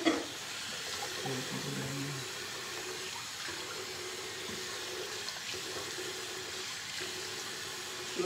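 Tap water runs steadily during a long natural hair wash, a soft continuous hiss and splash with faint low tones briefly surfacing underneath.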